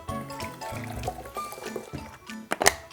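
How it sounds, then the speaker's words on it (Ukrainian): Vinegar is poured over an egg sitting in a glass, a short run of liquid gurgling, splashing and dripping, close and fairly loud, ending in a couple of sharper drips. "Долиємо трошки оцту."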